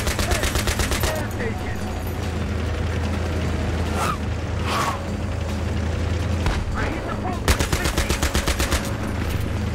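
Rapid automatic gunfire rattles in dense bursts during a Battlefield mission, with heavy booms and battle noise throughout and a loud fusillade near the end; a voice talks over the action.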